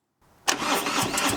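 A Harley-Davidson Touring motorcycle engine cranks briefly and then catches with a loud, sudden start, settling into a steady rumbling idle close by.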